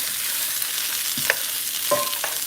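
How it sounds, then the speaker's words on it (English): Rice sizzles and crackles in a big skillet for a hibachi-style meal at home, a steady frying hiss with a few brief scrapes and clatters of stirring, moderately close with no voices. "I'm gonna throw my rice in that big skillet"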